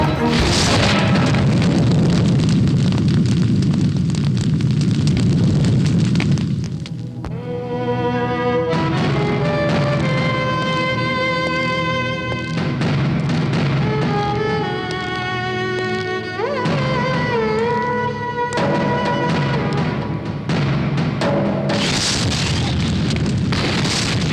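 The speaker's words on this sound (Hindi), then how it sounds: "शहर में हुए बम ब्लास्ट में करीब 15 लोगों की जान गई" A bomb blast booms through a Hindi-dubbed action movie, a loud broad explosion roaring for several seconds before giving way to tonal dramatic music and later another burst of noise.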